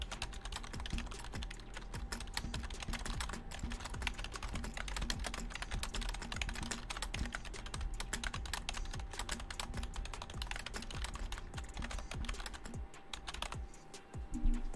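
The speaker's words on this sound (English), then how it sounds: "See? Mechanical keyboard. That's how it works." Steady, gentle typing on a mechanical keyboard, a continuous patter of close, crisp key clicks with no talking until a final louder tap.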